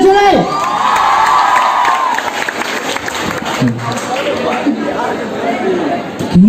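A live audience at a Bondhi Patshala session in Comilla cheers loudly, with whoops, shouts and lively crowd chatter filling the room throughout.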